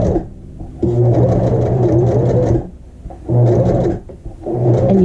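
Sewing machine stitching along the edge of a drawstring bag, running in two loud steady bursts with a brief pause between, motor whir close and continuous, no voices.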